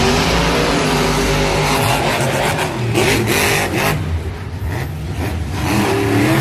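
Monster trucks racing head to head at a Monster Jam stadium event in Santa Clara, engines roaring loud and close throughout, with surging revs and a roaring crowd mixed in.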